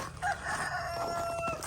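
A rooster crows out among clucking chickens, fairly faint and a little distant, with light farmyard background noise.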